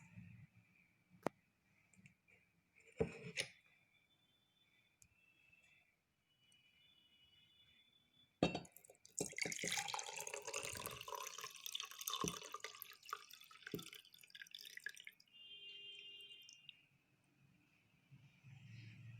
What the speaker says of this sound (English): So put the water into the glass.